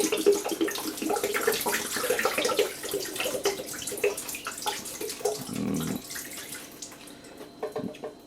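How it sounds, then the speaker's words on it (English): Water splashes and trickles continuously as it is poured out of a Yugoslavian mess kit, with a brief heavier gush near the end and a few small drips trailing off. "So I'll just empty the water out of this."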